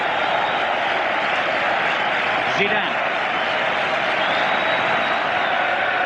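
A stadium crowd of 30,000 at a 1997 France versus Brazil football match, a broad steady roar of cheering that fills the background under a commentator's voice.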